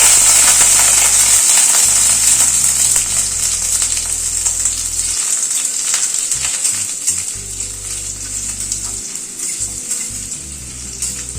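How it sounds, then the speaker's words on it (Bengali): Potatoes frying in a pan, a steady close sizzle with bright hissing throughout and occasional light scraping, loud and continuous with no talking. "আলুটাকে প্রথমে একটু ফ্রাই করে নিচ্ছি"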